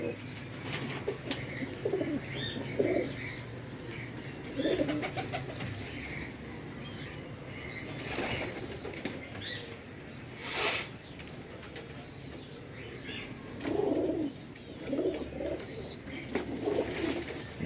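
Breeder pigeons cooing in a loft, soft repeated coos arriving in intermittent bursts with brief wing flaps, fairly quiet and close.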